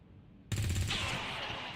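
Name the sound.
gunshot in XCOM 2 video game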